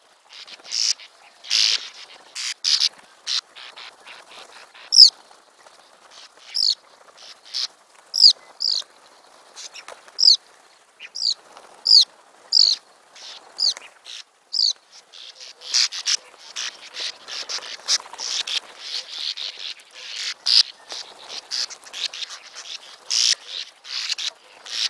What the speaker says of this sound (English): I was able to obtain that 30-second soundbite of the sounds of bank swallows